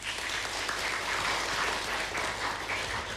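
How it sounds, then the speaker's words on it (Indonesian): A debate audience in Sumenep applauds the number-one regent and vice-regent candidate pair, a continuous wash of distant crowd clapping held at an even level for the whole stretch. "Berikan tepuk tangan"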